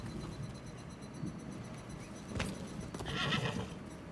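A horse whinnies and snorts in the game Rise of the Ronin on PS5, over a steady background of game ambience and music, with a louder burst near the end.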